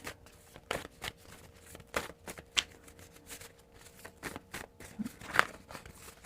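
Tarot cards being shuffled by hand, a rapid run of crisp riffling bursts and soft slaps close up, fairly quiet, with no voice over them.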